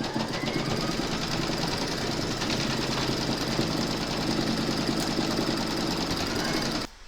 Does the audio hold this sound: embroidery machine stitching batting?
yes